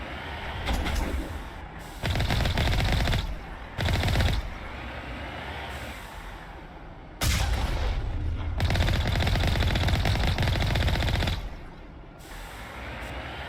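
Heavy gunfire from a Mass Effect firefight on Feros, with long loud bursts of automatic shots separated by short pauses and a steady background rumble.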